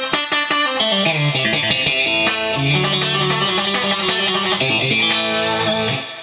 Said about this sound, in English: And the quack, I guess you'd call it quack, that you get out of when you like plunk a string.